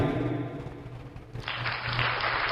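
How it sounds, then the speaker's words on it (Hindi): A church congregation breaks into dense, loud clapping about halfway through, the applause swelling over a steady low hum that runs the whole time. "अगर सही कह रहे हैं तालियां बजा दीजिए"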